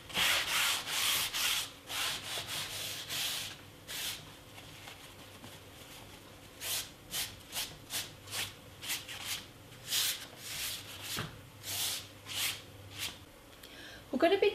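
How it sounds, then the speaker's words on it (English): A kitchen towel wipes excess oil off a painting canvas in repeated soft, brushing rubs, close and fairly quiet, in irregular bursts with short pauses between strokes. "we'll take a kitchen towel and we'll very carefully just wipe away the excess."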